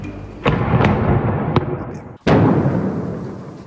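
A heavy blast bursts out with a sharp crack and a rumbling tail, followed by another powerful boom about two seconds later, with brief sharp pops between.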